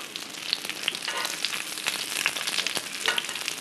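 Breaded cracker-crusted pork tenderloin frying in a pan, a continuous soft sizzle with scattered sharp pops and crackles, heard alone without speech.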